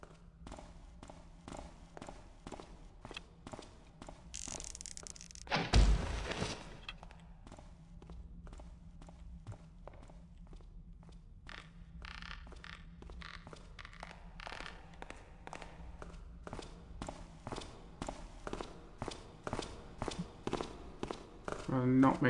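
Metal footsteps in a Thief fan mission, a steady series of quick, clanking steps running throughout, with a louder burst partway through and a faint low hum underneath.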